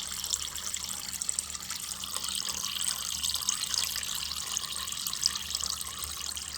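Water pours steadily into a chicken coop drinker, a continuous close splashing stream with no talk.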